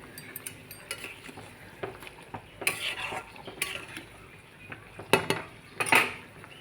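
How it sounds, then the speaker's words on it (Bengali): Fish being stirred in a frying pan with a utensil, irregular scraping and clinking strokes over a soft sizzle, close and moderately loud, a couple of sharper knocks near the end. "মাছগুলো দিয়ে এখন নাড়াচাড়া করে নিই"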